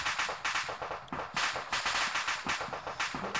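Rapid, crackling bursts of gunfire-like pops, dense and continuous, from ammunition cooking off in ArmA 3.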